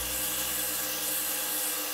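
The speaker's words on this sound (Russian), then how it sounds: "но я также это все сделаю на гриндере" Steady, continuous abrasive grinding hiss of a grinder's sanding disc against a ceramic tile surface, loud and close, unbroken for the whole stretch.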